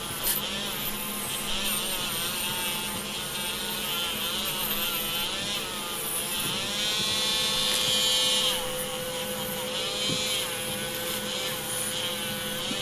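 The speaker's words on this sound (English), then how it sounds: "So I'm going to take my Dremel with my brass wire wheel, go over the entire body, making sure that I get any leftover paint" Dremel rotary tool fitted with a brass wire wheel stripping leftover paint from a model car body, a continuous high whining buzz with scratchy grinding texture, steady and close throughout with slight pitch wobbles as pressure changes.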